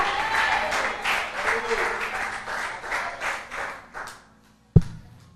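Church congregation applauding in a broad wash of claps with voices mixed in, fading out after about four seconds, then a single sharp knock near the end.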